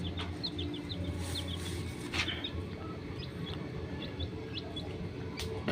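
Faint high peeping of newly hatched gamefowl chicks, soft repeated chirps scattered over a steady low background hum, with a louder cluck or squawk near the middle.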